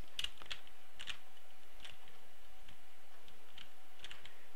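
Sparse keystrokes on a computer keyboard, a few separate sharp clicks spaced irregularly over several seconds against a quiet background hum.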